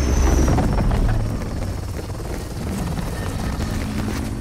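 Whirring rotor drone of a golden helicopter in a video game, loudest at the start and then holding steady as a dense, continuous engine wash with no talk.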